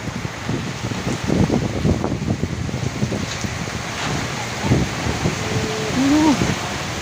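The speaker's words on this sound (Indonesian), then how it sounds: "Anginnya kuat, dulur-dulur." Strong gusting wind with rain sweeps an outdoor bonsai exhibition in Banyuwangi, a constant blustery roar buffeting the microphone while people talk and call out over it.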